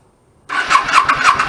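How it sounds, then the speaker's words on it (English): 1999 Yamaha V-Star 650 Classic motorcycle with a clogged pilot jet, cranking on choke: a loud, close, rhythmic starter churn that begins abruptly and pulses without catching. "Put the choke in and try to start it."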